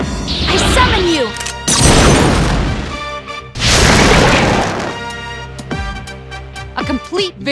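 A summoned Persona unleashes a fire attack in the video game Persona 3, with two big crashing whooshing blasts, then a string of sharp smaller hits and effects, loud and close, and game voices in between.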